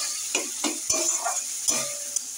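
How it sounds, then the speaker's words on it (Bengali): Spice masala for a vegetarian banana-flower dish sizzles in oil in a pan, with several sharp scrapes and clacks of a spoon stirring it, close up and without talk. "মশলাটা এবার ভালো করে কষাতে হবে"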